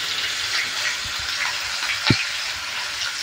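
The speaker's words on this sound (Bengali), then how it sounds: "পেঁয়াজটা দেওয়ার পর ভালো করে নেড়েচেড়ে নিয়ে ভেজে নিচ্ছি।" Chopped onion frying in oil with cumin and dried chilli, a close, steady crackling sizzle with a few soft stirring knocks and one brief thud.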